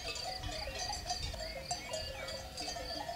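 A flock of sheep in an enclosure, with overlapping bleats and a clinking bell heard over a constant outdoor background.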